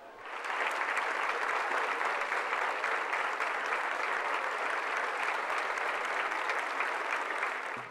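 A crowd applauding a person arriving in procession at a university rectorate, with a steady wash of dense clapping that swells in quickly and holds evenly, somewhat distant and without talk.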